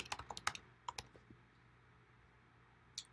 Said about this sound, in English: we can start typing in that client's name that we had added in